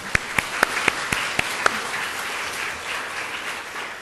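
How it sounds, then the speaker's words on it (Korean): Audience applause for five judges at the final round of a Korean university debate contest, a few sharp near claps up front over a dense wash of clapping that fades slightly as it continues. "공정한 판정을 위해 다시 한번 큰 박수로 5분의 심사위원님께 인사를 드리십시오"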